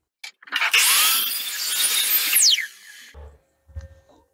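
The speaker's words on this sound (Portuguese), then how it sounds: "Quando eu baixar minha serra, eu vou fazer o corte bem rente à linha" A telescopic miter saw spins up and cuts through wood with a loud, bright whine and rasp lasting about two seconds, then winds down, followed by a few faint clunks.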